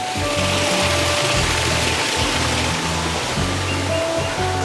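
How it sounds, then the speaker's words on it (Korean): Steady, loud rush of flowing water at the Sanctuary of Truth in Pattaya, Thailand, filling the whole clip, continuous and close, with no voices. "물소리가 좋네요."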